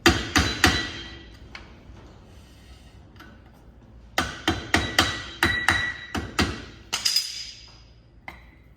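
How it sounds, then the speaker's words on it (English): A flat blade screwdriver is tapped between the edges of a brake drum and its backing during a brake adjustment on a Tanami, giving sharp metallic knocks in quick clusters with pauses in between, close and fairly loud. "I'm going to tap it in between the edge of the drum and the edge of here"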